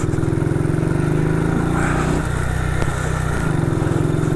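A 1959 BSA motorcycle engine idles fast with high revs, a steady close putter and drone that dips briefly in the middle before resuming, loud and alone without talk.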